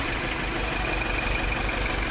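A Mini Cooper R56 with the N18 engine idles roughly from a cylinder misfire, a steady uneven low rumble with a faint high whine above it, close by and alone for about two seconds.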